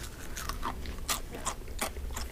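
Crunchy air-fried scrapple from a Ninja Foodi, topped with sweet syrup, bitten and chewed close to the mic: a run of sharp, brittle crackling crunches in an uneven rhythm, with no talking.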